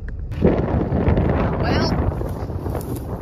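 Strong wind buffets the microphone outdoors on a farm site after harvest, a continuous low rumble that runs under a voice briefly speaking.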